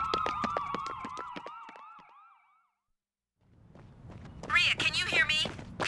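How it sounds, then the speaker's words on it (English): Ambulance sirens wail in a video game, a rising and falling electronic tone over other game sounds, fading to silence before more layered, warbling siren-like tones return loudly. "Ambulances. Tons of them."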